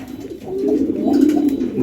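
Pigeons coo in a pigeon house, a low, rolling burble that swells and continues close by for the whole moment, with no talk over it.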